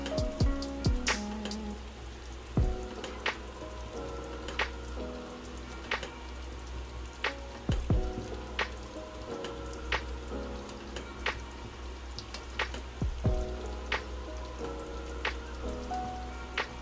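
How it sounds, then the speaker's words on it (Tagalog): Ginataang big head fish simmers in coconut milk, giving a steady, quiet bed of soft bubbling pops and irregular sharp little cracks spread over the whole stretch, with no talking. "hayaan lang muna natin kumulo ang ating ginataang big head fish"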